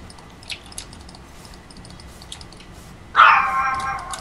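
A dog in the video game Dread lets out one loud, drawn-out bark or yelp near the end, following a quieter stretch of faint clicks and game noise.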